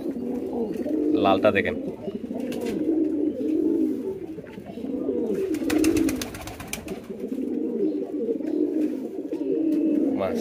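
Imported Damascene pigeons coo in repeated low, rolling phrases close by, one after another, while someone talks over them and a few brief clatters are heard.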